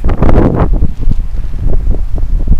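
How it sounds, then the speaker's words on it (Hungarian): Strong wind buffets a microphone outdoors, producing loud, irregular rumbling thumps and gusty roars that surge and ease in uneven bursts. "nagyon fúj most a szél"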